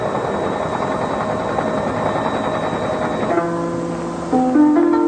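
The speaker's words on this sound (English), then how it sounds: "So the helicopters would take us in. They can set us down anywhere." A helicopter in flight, its rotor and engine giving a steady, loud chopping drone that carries on throughout, with music entering near the end.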